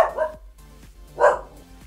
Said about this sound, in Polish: Ej, piesek, cicho!